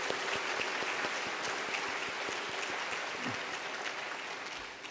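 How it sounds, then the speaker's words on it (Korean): Korean church congregation at a Sunday afternoon service breaks into sustained, dense applause of encouragement, many hands clapping together steadily throughout and fading slightly at the end. "다시 한번 격려의 박수 한번 하겠습니다"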